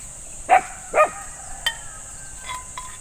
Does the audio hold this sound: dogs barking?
yes